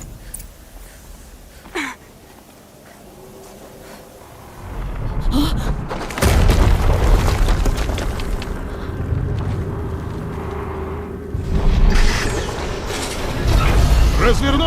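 Explosion in Horizon Zero Dawn Remastered, a deep rumbling blast that swells into a sustained roar with heavy low thuds and a second surge near the end, amid mechanical game noise.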